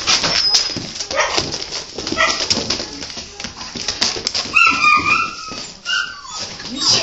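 A dog whimpers and gives soft, short barks up close, mixed with handling noise, while people talk over it in a casual indoor setting.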